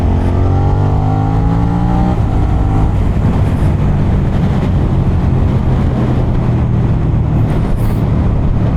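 A 2023 Suzuki SV650 motorcycle engine revs up in third gear, its pitch climbing over the first couple of seconds, then settles into a steady roaring drone with wind buffeting.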